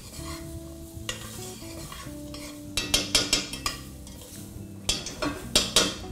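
Rice grains coated with sazon seasoning are stirred in a hot pot for arroz con gandules, with a steady sizzle under a series of close, rhythmic scraping and clinking strokes of a utensil against the pan.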